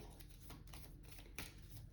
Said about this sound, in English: Okay, so I'll give those a quick shuffle